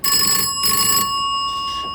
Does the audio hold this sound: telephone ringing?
yes